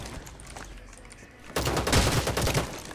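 Rules of Survival gunfire: a quiet stretch gives way to a loud, dense burst of rapid automatic shots that keeps rattling for over a second.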